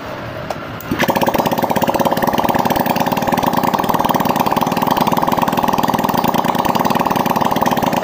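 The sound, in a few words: Honda Beat ESP scooter engine started and running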